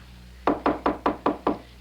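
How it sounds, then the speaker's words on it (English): Six firm, evenly spaced knocks land on a house door in quick succession, close and solid, with no voices over them. "And I don't see no bell button. So, knock."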